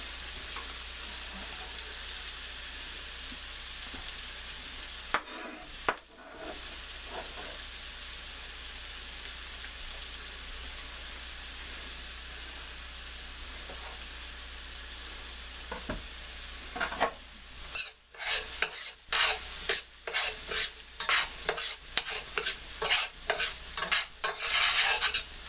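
Garlic sizzles steadily in a pan for a vegetarian stroganoff, a continuous hiss broken by a few clanks, then stirring scrapes and clatters grow busier toward the end.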